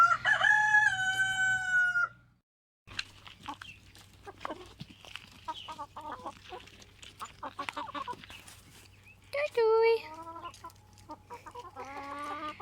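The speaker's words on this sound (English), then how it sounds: "But he has such a lovely voice, I think, this young rooster here." A young rooster crows loudly nearby, then after a brief silence hens cluck and chatter, followed by another shorter crow and more clucking.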